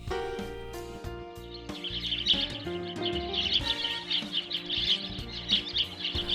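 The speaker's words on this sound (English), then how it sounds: "The white-breasted wood swallow was once called the white-rumped wood swallow." White-breasted woodswallows give repeated high chirping calls in a clear run of notes, fairly faint, over a soft backdrop of sustained low tones.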